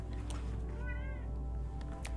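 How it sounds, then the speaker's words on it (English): A cat in a gardening game gives a single short meow over a constant, dense background hum. "The cat is getting into trouble."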